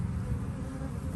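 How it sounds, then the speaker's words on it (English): Honeybees buzz in a steady, continuous drone at a hive entrance, close and fairly quiet, with no voices. "Oh, there's a bee come to say hello."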